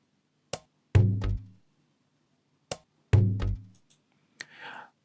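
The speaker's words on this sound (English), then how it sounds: "As you can see, it's a couple of percussions and they sound like this." Afro house percussion samples in an FPC drum pad: sparse isolated hits, a sharp click followed by a deeper booming knock, repeated twice, then a short noisy shaker-like burst, dry and alone.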